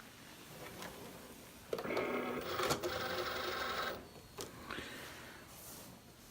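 Cricut cutting machine pulling in a cutting mat loaded with thin light cardstock, a short motorized whir and clatter of rollers, fairly quiet with a few soft mechanical clicks around it.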